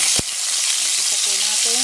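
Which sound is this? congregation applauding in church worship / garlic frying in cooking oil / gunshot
garlic frying in cooking oil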